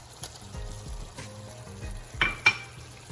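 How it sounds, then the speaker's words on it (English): A seafood mix tumbles into a pot of keto curried seafood soup already holding salmon and cod, giving soft splashes and sizzles followed by a couple of sharp clinks near the end. "then I'm going to add the seafood mix"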